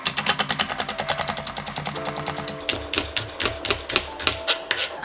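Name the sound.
chopping green onions with a knife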